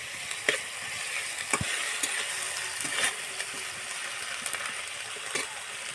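Ginger and garlic paste sizzling hard in a hot pan, a steady close crackle with occasional sharper pops and stirring scrapes, no voices over it.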